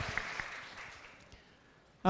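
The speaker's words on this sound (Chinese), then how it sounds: "我们用掌声谢谢神" A church congregation claps during a Sunday worship service, the applause fading steadily over a couple of seconds before a voice starts speaking at the very end.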